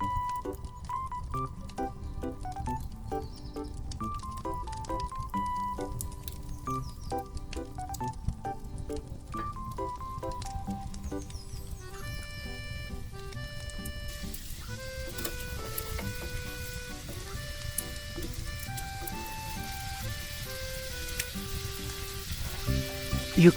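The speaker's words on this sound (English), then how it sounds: "let's move on to placing our seasoned burgers onto the plank for cooking" Seasoned burgers cooking on a plank before a fireplace, with a soft continuous crackle and sizzle steady underneath, under a melodic background tune and no talking.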